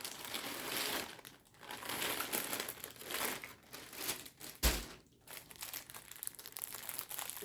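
A plastic bag crinkles and crackles close to the microphone as reusable period pads are unboxed, irregular bursts of rustling with a few sharper crunches and brief quieter gaps.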